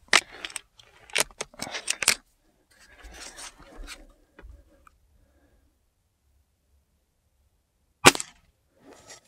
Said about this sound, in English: let's go ahead and shoot those over the crony. 10 shots.